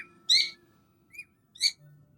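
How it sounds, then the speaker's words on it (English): A bird sings in the game Genshin Impact, giving three clear, bright whistled phrases separated by short pauses over a quiet background. "the singing of the bird is the song of their people"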